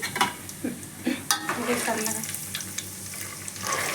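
Cumin seeds frying in a pan for gongura chutney, a close, steady sizzle with brief stirring clatters and scrapes over about four seconds.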